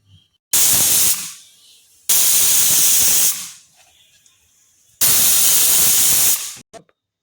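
A pressure cooker cooking mutton keema vents steam in three long, loud hissing bursts, separated by short quiet gaps, with no talking.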